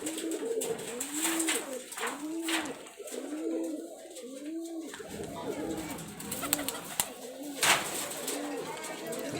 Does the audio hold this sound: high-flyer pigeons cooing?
yes